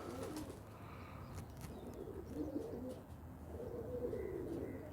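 Soft cooing of breeder pigeons, low rolling coos repeating over a steady hum of background noise at moderate distance.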